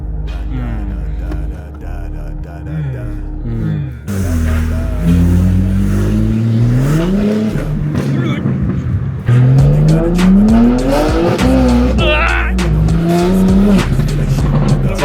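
A BMW M4 drifts with its engine revving hard and climbing in pitch in repeated surges, loud tire squeals layered on top, close and aggressive, with voices in the car at times.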